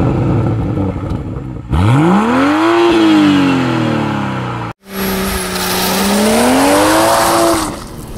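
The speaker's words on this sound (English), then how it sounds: "Hear that engine one more time." A 2021 Toyota Supra engine revs hard twice, each time rising to a loud high-pitched howl before dropping away, with a brief cut between the two pulls.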